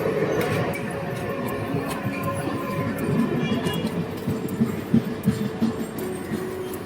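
Rumbling train noise at Palta railway station, steady and moderately distant, with faint clanks and rail clatter rising toward the end.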